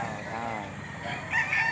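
At a poultry auction market in Lipa, Batangas, a rooster's crow rises close by, one drawn-out call with a brighter lift near its end and faint background voices beneath.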